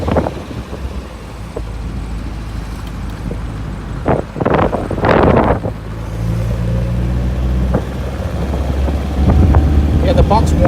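A 1958 MGA 1500 Roadster driving and shifting up through its gears, engine drone rising and dropping between shifts, under heavy wind buffeting with some brief thumps.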